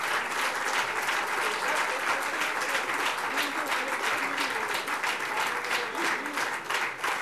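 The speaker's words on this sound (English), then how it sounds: "Let's have a huge round of applause." Steady, dense audience applause at a commemorative postage stamp unveiling ceremony, moderately loud and continuous throughout, with no talking.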